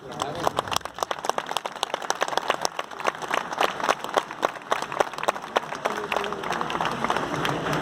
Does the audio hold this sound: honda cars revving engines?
no